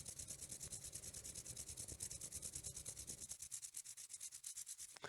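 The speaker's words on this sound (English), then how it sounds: "We just shift our fingers a little bit and rub the knuckles of our fingers back and forth together." Finger knuckles rub back and forth against each other in a steady, rapid scratchy rhythm, close and quiet, with the rubbing continuing evenly throughout.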